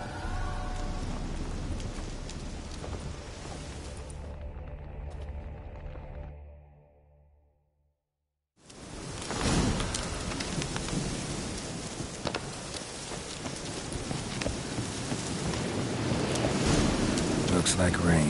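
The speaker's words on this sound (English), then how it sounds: "Looks like rain." Steady rain with rolling thunder in the game The Witcher 3: Hearts of Stone, a dense broadband wash that fades to near silence midway, then returns louder with a heavy thunder crack and continuing downpour.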